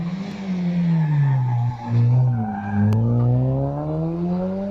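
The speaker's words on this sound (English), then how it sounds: "Trevor Parsons leaving the start now." Caterham sports car pulls away from the start line at the Wiscombe Park hillclimb, its engine note rising and falling through gear changes, loud and close, with no talk over it.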